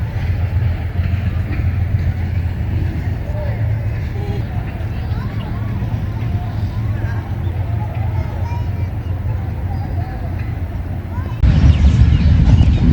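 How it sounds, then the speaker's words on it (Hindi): Allama Iqbal Express led by an AG30 locomotive arriving at Jania station, a loud continuous rumble of rolling train and engine that swells near the end, with someone talking over it. "आज नाइना अलामा इकबाल एक्सप्रेस बहुत लेट पहुंच रही है जानिया, और इसे AG30 लीड कर रहा है"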